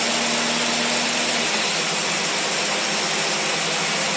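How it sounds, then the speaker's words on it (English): A carbureted engine fitted with a 600 cfm manual-choke carburetor runs on a dyno, producing a loud, sustained roar that fills the whole stretch with no voices. "We're gonna rev it up a couple times."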